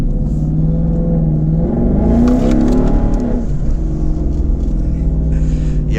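A 2019 twin-turbo Mustang accelerates hard with a loud, close engine roar rising in pitch through the revs, then dropping back to a steady drone, with faint rattles.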